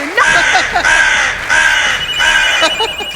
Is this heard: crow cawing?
yes